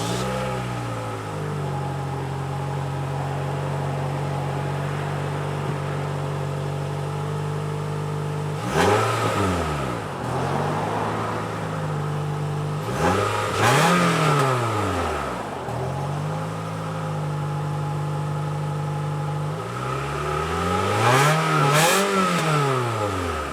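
A 2015 Toyota Highlander LE with its 2.7-liter four-cylinder engine idles steadily, then revs up hard in three separate bursts that climb in pitch and fall away. The sound is loud and close, and no one speaks.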